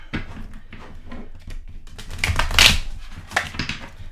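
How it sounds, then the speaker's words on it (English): A new deck of cards being shuffled, with soft riffling bursts and papery slaps building to a louder ripple near the middle, close and on its own with no talking. "Just going to get a new deck and shuffle."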